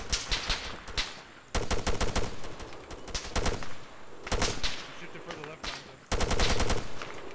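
Gunfire in the Vietnam War mod for ARMA 3 comes as loud, rapid machine-gun bursts in the jungle, several sustained volleys with short gaps and scattered single shots between them.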